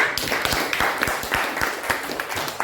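A classroom of students claps for a classmate, a steady run of close, sharp hand claps filling the room with little else beneath.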